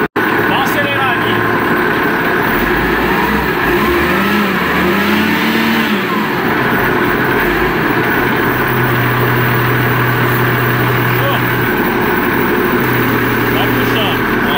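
An engine on a W20B revs repeatedly while its pressure is being adjusted, a steady mid-pitched drone rising and falling in bursts, loud and close, with people talking over it.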